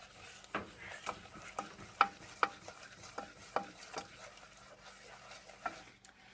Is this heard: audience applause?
no